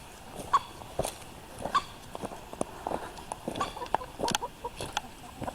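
A group of chickens with a young rooster makes scattered clucks and short calls around a farmyard, with soft footsteps and rustling in between and no talking.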